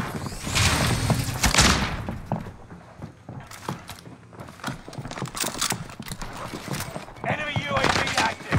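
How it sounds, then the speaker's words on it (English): Game explosions and bursts of gunfire from Warzone on the Caldera map, a thump followed by scattered shots and impacts at moderate distance, mixed with voices talking. "Grenade out!"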